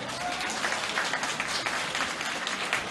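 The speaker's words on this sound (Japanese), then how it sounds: "そしてこれより戦う2名の選手に盛大な拍手" Loud, dense applause from a large crowd at a Marvel vs. Capcom: Infinite esports tournament match, sustained and even throughout with no pauses.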